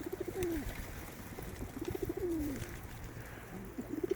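Pigeons coo in a loft in repeated low, rolling phrases, two clear bouts a couple of seconds apart with softer cooing at the end, over a steady background hum.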